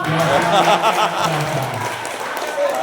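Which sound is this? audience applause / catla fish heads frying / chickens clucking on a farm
audience applause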